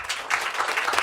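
Audience applause at a board of directors' inauguration ceremony, a steady wash of clapping from a crowd throughout the short moment, fairly even in loudness with no voices over it.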